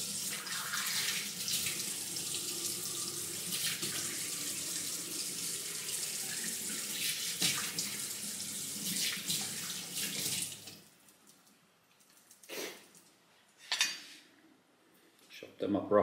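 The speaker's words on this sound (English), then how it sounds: "I'm just going to rinse them quickly in my hand to get most of the salt away" Salted ingredients for a tuna focaccia sandwich are rinsed by hand under a running kitchen tap, with steady close water flow and light clatter for about ten seconds, then the water stops and a few faint handling sounds follow.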